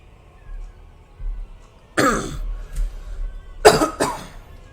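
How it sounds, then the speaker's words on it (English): A heavy, chesty cough from a man during a live reading, two rough bursts about a second and a half apart with a smaller hack after the second, close and loud against a quiet room. "That was a heavy cough."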